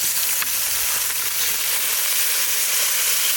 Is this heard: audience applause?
no